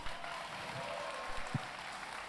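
Audience clapping at a taekwondo fight night in Guadeloupe, a steady, fairly quiet patter of applause that holds for a couple of seconds, with faint voices in the background.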